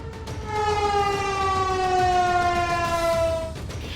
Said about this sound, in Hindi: फायर स्टेशन जैसी जगहों पर लगे सायरन बजने लगेंगे